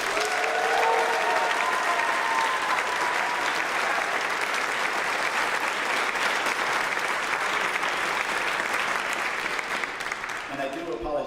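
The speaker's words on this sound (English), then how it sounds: "Now let's do one really inclusive round of applause for all the graduates." Sustained, dense applause from a large crowd for graduates at a college-wide commencement ceremony, continuous and full before easing off near the end.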